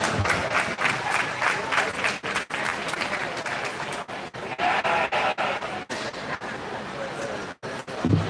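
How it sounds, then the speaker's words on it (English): An audience at a 4-H and FFA sheep show at a county fair claps in a sustained, close round of applause, with scattered crowd noise mixed in under the clapping. "Give these guys a round of applause."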